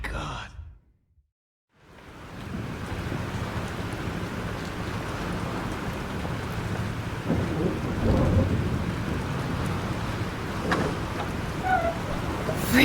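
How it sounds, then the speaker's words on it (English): A thunderstorm in the video game Life is Strange: a sigh-like breath gives way to a heavy, continuous roar of rain and wind with rumbling thunder building steadily and loudly throughout. "This storm is real."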